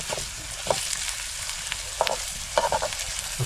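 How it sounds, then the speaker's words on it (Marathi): Tomatoes go into a pan of onions already frying to a reddish orange, giving a soft, steady sizzle with a few sharper crackles and stirring scrapes, fairly close and fairly quiet, with no talk. "आता टोमॅटो टाकूया."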